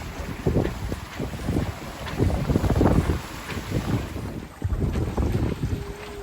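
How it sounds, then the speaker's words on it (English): A sailboat under sail in about 13 knots of wind, heard as blustery wind buffeting the microphone with rushing water and waves along the hull, loud and uneven gusts with a short lull near the end. "Alright, we're under sail again."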